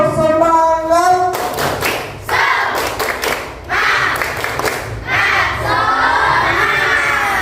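A classroom of children in Indonesia claps and shouts together, with loud bursts of unison clapping and excited yelling that rise and fall in waves, opening with a short voice before the group noise takes over.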